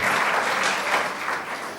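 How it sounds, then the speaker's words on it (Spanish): Congregation applause in a church service, a brief, loud, continuous burst of many hands clapping together without pause. "le mandamos un gran saludo y este aplauso para nuestros hermanos que nos están viendo ahora"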